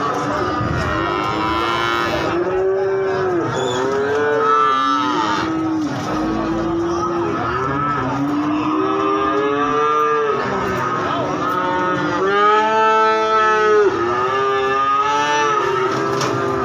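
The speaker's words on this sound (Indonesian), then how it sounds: "Ini ada sapi-sapi limusin." Several Limousin cattle moo loudly and repeatedly at a cattle market in Magetan, East Java, long drawn-out lowing calls overlapping one another with a faint crowd murmur behind.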